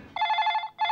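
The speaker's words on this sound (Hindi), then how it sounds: "वो ये फोन इतनी जोर जोर से बज रहा है" A telephone rings loudly in a guest house office, an electronic trill in two close bursts with a short gap between them.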